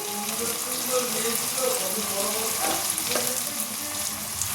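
Chicken masala of ginger, garlic, chilli and tomato fries in a pan with a close, continuous sizzle and sputter, broken by occasional stirring scrapes, while a voice speaks faintly in the background.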